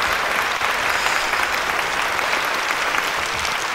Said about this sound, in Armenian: Ձեր ծափահարությունները, այո